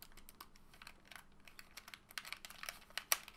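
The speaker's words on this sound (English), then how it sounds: "I'm hitting all the buttons, nothing's happening." Computer keyboard keys pressed in quick, uneven bursts while playing Cave Story, the clicks close and crisp and growing busier toward the end, with no voices.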